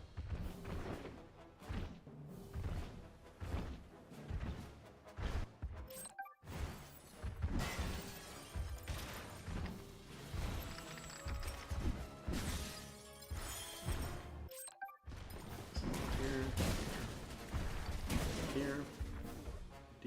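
Missiles striking a tank in the video game Knack, a run of heavy crashing impacts and thuds over busy game music and effects, with two brief silent gaps partway through.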